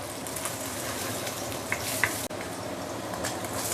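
Ingredients sauté in a hot pan with a steady, soft sizzle, carrot and imitation crab meat among them, and a couple of faint clinks over the even frying hiss.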